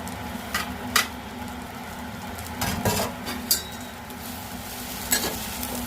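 Mustard flowers and salt stirred in a pan make soft scraping strokes and a few light clinks of a utensil against the pan over a faint low hum, with no talk.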